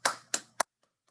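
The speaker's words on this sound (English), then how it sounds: "join me in giving a round of applause to an exceptional human being and leader, Dr. Mark Stevens" Three sharp hand claps in quick succession at a veterans' graduation celebration held online, each crisp and close, followed by near silence with a couple of faint ticks.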